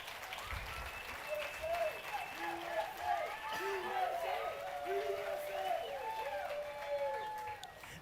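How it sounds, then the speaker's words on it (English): A crowd at the awards ceremony of a world longboard surfing championship in El Salvador applauds in a steady, dense wash of clapping, with cheers and whistles rising over it throughout. "Big round of applause."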